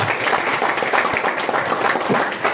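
An audience at a property-investment seminar breaks into applause, a full, steady roar of clapping at high level that fills the whole moment without a break.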